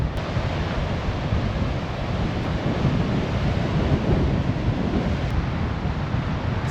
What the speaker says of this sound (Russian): Волны разбиваются, и влажное облако летит на несколько десятков метров от берега.